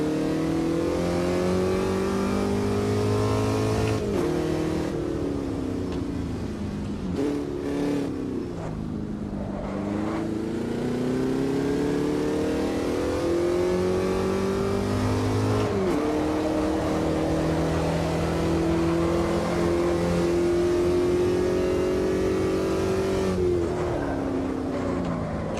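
Formula Vee race car engine in a racing simulator game, revving up and down continuously through gear changes, loud and close with no talk.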